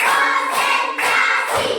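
Hands clap in a counted classroom clapping routine, a few broad, slightly blurred claps sounding about every half second, close and steady without speech.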